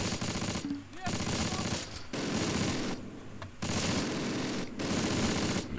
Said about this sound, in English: Fire away. 60mm mortar.